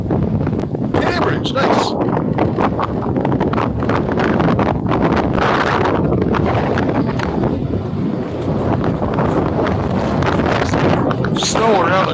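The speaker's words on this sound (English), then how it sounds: "Ironically, that wind is coming out of the south." Strong wind gusts buffet the microphone out on a frozen lake during ice fishing, a loud, continuous rumbling roar, with a person speaking briefly over it.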